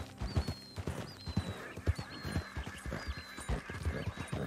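Horse hooves clip-clop at a steady galloping rhythm in the video game Red Dead Redemption 2, with game ambience and faint tonal calls above them and no talk.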